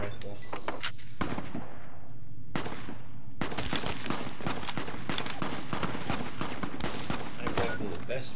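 Rifle gunfire in Fallout New Vegas, a dense run of sharp shots packed close together in the back half after a few scattered early reports, loud and near with talk mixed in.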